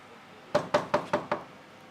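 Five even knocks on a door, crisp and close with a steady rhythm and nothing else around them.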